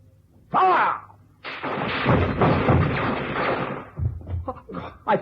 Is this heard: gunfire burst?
yes